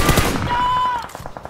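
Rapid automatic gunfire from a squad-based shooter video game hammers out loud and close, a fast string of shots that fades into a few lighter, spaced pops at the end.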